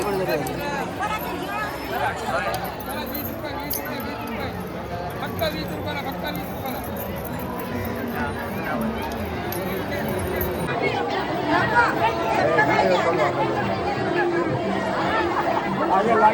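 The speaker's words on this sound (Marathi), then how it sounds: "चंद्रभागेच्या काठावरची गर्दी तुम्ही बघू शकता" Dense crowd chatter and hubbub from a large gathering of pilgrims on the bank of the Chandrabhaga river at Pandharpur during the Ashadhi Ekadashi wari, a steady wash of many voices that swells slightly louder toward the end.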